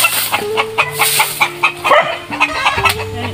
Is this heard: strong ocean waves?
no